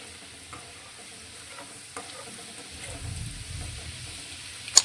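A soft steady sizzle of garlic sautéing in a pan, with occasional stirring scrapes and a small clatter at the end.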